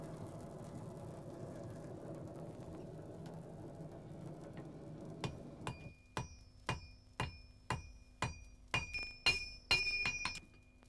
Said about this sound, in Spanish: unirlas a golpe de martillo sobre el yunque